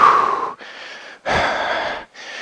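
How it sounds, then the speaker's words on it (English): Loud, close, heavy breaths in three long drawn bursts with short pauses between, taken during an at-home dumbbell dance workout. "Breathing."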